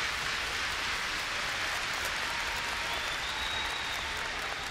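An esports arena crowd at a CS:GO ESL Pro League semifinal between FaZe and Fnatic on Overpass cheers and applauds, a dense, loud, sustained wash of noise with no break.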